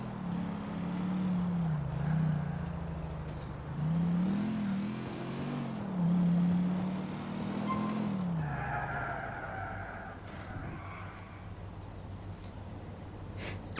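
In Grand Theft Auto IV, a stolen car speeds into oncoming traffic, its engine droning and rising and falling in pitch under tire noise, then settling into a lower hum as other traffic sounds pass.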